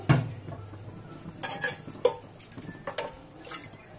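A pressure cooker being washed in water in a home kitchen, with scattered metallic clinks and knocks of the pot against other dishes and faint splashing, close and moderately quiet.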